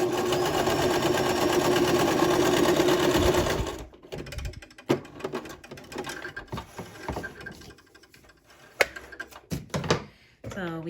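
A Brother LX2375 sewing machine runs steadily while stitching zigzags, a loud continuous mechanical whir for about four seconds that stops abruptly, followed by quieter clicks and handling noises.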